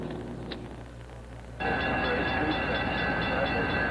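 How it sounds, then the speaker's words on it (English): A freight train carrying poison gas rolls through the western Chicago suburbs in 1969, a broad steady rumble that jumps louder partway through and stays heavy and close. "One of the 2 poison gas trains rolled into the western Chicago suburbs early this morning."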